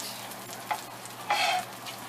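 Blackened tilapia frying in oil in a pan, giving a steady close sizzle with a couple of brief louder crackling flares.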